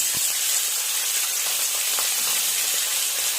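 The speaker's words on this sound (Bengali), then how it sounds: "পনিরটা একটু হালকা করে ভেজে নেব, খুব বেশি ভাজার দরকার নেই।" Pieces of paneer frying lightly in white cooking oil for a vegetarian navratan korma, giving a steady, fairly loud broadband sizzle and hiss with no voices.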